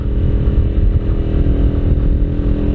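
A Kuba Çita 180 R Gold motorcycle climbs a hill under throttle, its engine a loud, steady, close low drone with a slight rhythmic throb throughout.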